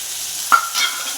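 Onions and tomato fry in a pan, with a soft sizzle and a brief scrape of stirring, close and alone.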